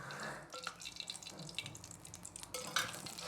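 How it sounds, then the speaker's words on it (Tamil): Oil trickles into a clay pot being readied to temper a fish curry, a soft, close dripping pour with faint wet spatters and no voices. "குழம்பு தாளிச்சு விடுறதுக்காண்டி சட்டியை வச்சு எண்ணெய் ஊற்றிக்கலாம்."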